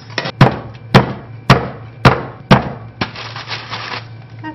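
Roasted chestnuts crushed in a bag with a mallet, about six sharp, loud thumping blows at a steady pace, then lighter crunching and rustling of the bag.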